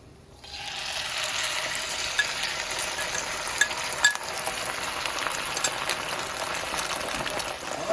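An egg sizzles steadily in a hot pan for a Mexican huevos de tortuga breakfast, a bright, even hiss that starts abruptly and holds with a few small pops.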